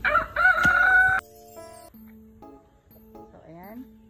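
On a free-range egg-laying chicken farm, a rooster gives one loud, close crow lasting about a second, then a person talks while faint fowl sounds carry on in the background.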